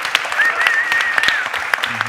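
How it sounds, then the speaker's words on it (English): Enthusiastic audience applause closing a panel discussion, steady clapping throughout with a faint whistle-like tone and a voice beginning at the very end. "an enormous, inappropriately loud, raucous round of applause for our incredible..."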